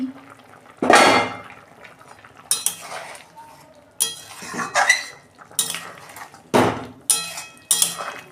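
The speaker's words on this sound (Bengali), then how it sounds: "বন্ধুরা, ঢাকনা খুলছি।" A metal lid comes off a cooking pot of mixed vegetable curry with potato, radish, pointed gourd and lentil dumplings, followed by a series of sharp, close clanks and scrapes of utensils against the pot, spaced irregularly with quiet gaps.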